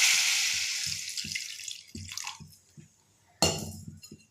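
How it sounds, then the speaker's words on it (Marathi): Water is poured into a bell pepper curry gravy: a close hissing pour that tapers off over a second or two, followed by light knocks and clatters of a utensil against the pan. "यामध्ये आता आपल्याला हवी असेल त्या प्रमाणात रशी तयार करण्यासाठी पाणी घालूया"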